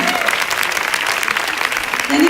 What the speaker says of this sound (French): Vous pouvez les applaudir, nos amis.